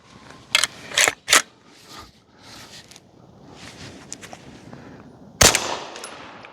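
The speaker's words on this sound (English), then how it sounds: "I'm just gonna shoot them and see how quiet it consistently stays" Suppressed MPA Defender firing Federal Syntec 150-grain ammunition: three sharp, muffled reports in quick succession, then a pause with faint handling noise and a fourth report near the end.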